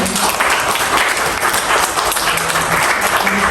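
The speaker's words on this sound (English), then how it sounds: "please give them a round of applause" Dense audience applause fills the room after a short film screening, loud and continuous with crowd murmur mixed in.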